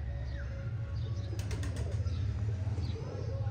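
A racing pigeon named Shaka comes in to land after a long flight, its wings flapping in quick soft beats over a low steady outdoor rumble, with faint bird calls around.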